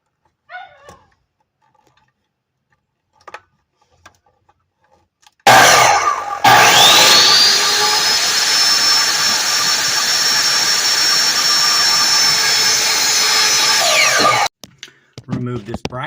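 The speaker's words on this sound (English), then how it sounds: "put it on the chop saw. Check the placement of the blade and where it's going to be, and chop away if you're satisfied with it." A chop saw cuts through a closet bracket, its motor winding up to a loud, sustained high whine for roughly nine seconds before spinning down, with faint clicks and handling noises around it.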